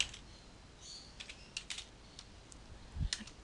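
Numbers are entered into an Excel spreadsheet on a computer keyboard, giving faint, close, irregular key clicks in small clusters with a slightly heavier tap near the end, with no talking.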